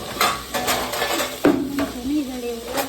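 Spiced rice is stirred in a pot, with repeated scraping strokes and metallic spoon clinks against the pot over a low sizzle, the knocks spaced irregularly and close.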